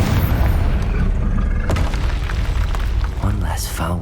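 Confringo spell blast in Hogwarts Legacy, a heavy booming explosion with rumbling debris that continues under a voice speaking.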